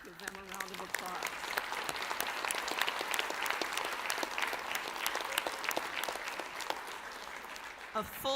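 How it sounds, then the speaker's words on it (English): Sustained audience applause at a graduation ceremony, a dense crowd of clapping hands with sharp individual claps standing out, steady and fairly loud throughout, after a brief voice at the start. "Let's give them a round of applause."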